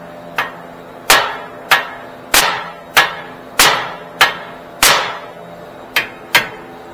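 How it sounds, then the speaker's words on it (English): Hammer blows ringing on a Honda Pilot axle during replacement: about ten sharp metallic strikes at a steady, roughly even pace, close and loud, each with a brief ringing decay, no talking. "Hit it with a hammer right here."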